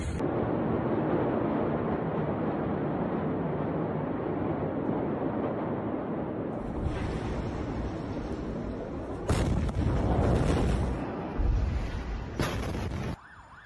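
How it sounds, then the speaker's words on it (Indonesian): An explosion shock wave from a seaport warehouse blast hits a residential district, a dense sustained roar followed by sudden loud bursts and rattling, with thin tonal whines above. "Video saksi menunjukkan gelombang kejut menghantam distrik pemukiman."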